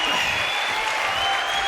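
Studio audience applause on a French television show, a dense, steady wash of clapping from a large crowd, loud and unbroken for the whole short stretch.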